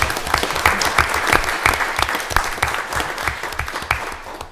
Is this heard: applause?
yes